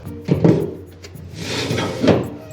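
A drawer on a homemade workbench slides open with a short wooden rumble and a couple of soft knocks, close by in a quiet room.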